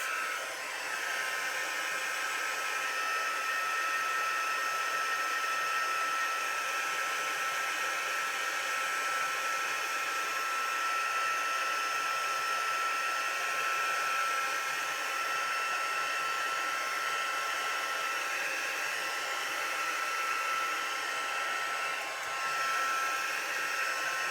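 A hair dryer blows continuously at close range while drying a painted card, a steady high whirring hiss with no pauses or voices.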